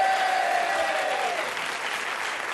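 A game show studio audience applauds warmly, a dense close burst of clapping that slowly thins out. A held musical tone plays beneath it at the start.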